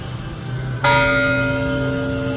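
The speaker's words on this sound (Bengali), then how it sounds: "উত্তরা গণভবনের প্রধান ফটকে স্থাপিত ঘড়ির ঘণ্টা ইতিহাস আর ঐতিহ্যের সাক্ষী হয়ে আজও সগৌরবে দাঁড়িয়ে আছে" A clock bell at the main gate of Uttara Ganabhaban palace strikes once, loud and near, its bright metallic clang ringing on in a long, slowly fading hum; no talking.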